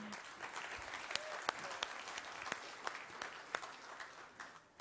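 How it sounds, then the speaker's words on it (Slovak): Audience applause fills a room at a Slovak presentation on a compensation plan, steady clapping from many hands with a few sharper claps standing out, continuous and fairly loud throughout. "Takže ešte raz veľký potlesk pre vás."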